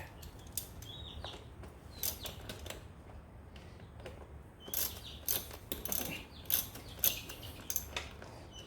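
A hand ratchet tightens a small bolt holding the reservoir on a John Deere Z920M mower's hydrostatic assembly, giving irregular, close clicking bursts in short strokes with pauses between.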